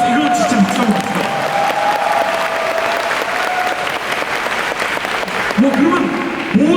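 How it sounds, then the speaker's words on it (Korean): Crowd at a Black Desert game festival event claps loudly and steadily, the applause running throughout while voices speak over it at the start and end. "여러분 박수, 이건 진짜 박수 한번 주세요."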